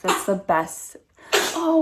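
A baby sneezes once, a quick small burst, between stretches of an adult talking nearby.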